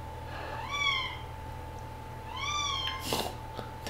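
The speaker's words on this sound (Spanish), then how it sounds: "Tengo mi gata por aquí." Two distinct meows from a domestic cat, heard inside an Uncharted 4 game session, each a rising-falling call about a second long. A steady hum runs underneath, and a short burst of clatter follows near the end.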